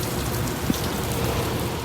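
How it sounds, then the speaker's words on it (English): Steady rain after a thunderstorm patters continuously on a surface on the Appalachian Trail, an even hiss of drops with one slightly sharper drip partway through. "I waited out that thunderstorm, but it's still raining."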